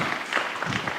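A seated audience at a healthcare values talk gives a short round of applause, a soft steady patter of hands clapping in a room, fairly quiet and brief.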